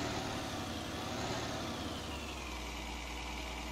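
Tractor engine idling steadily in Farming Simulator 19, a continuous low rumble with a mid-range drone that holds evenly at moderate level without talk.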